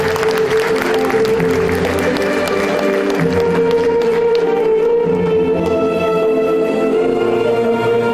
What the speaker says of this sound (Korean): 큰 박수로 윤충렬 교수님을 맞이해 주시기 바랍니다.